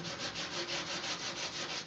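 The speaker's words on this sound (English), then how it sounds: "as soon as I get an abrasive on it" An abrasive rubbing old, rust-stained paint off a 1969 VW Camper, a fast, even back-and-forth scrubbing with a regular rhythm, close and steady for a couple of seconds.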